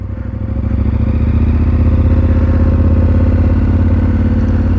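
A KTM 1290 Super Adventure R motorcycle is ridden with a loud, continuous, throbbing engine drone that climbs slightly at the start and then holds steady, heard close from the rider's position with no talking.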